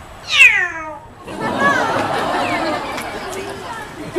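A parrot imitates a cat's meow with a single drawn-out, descending call, followed by crowd chatter and talk at a reptile-park show.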